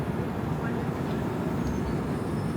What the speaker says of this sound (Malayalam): പക്ഷെ അപ്പോഴേക്കും ട്രെയിൻ എടുത്തു.